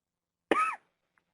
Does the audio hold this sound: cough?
yes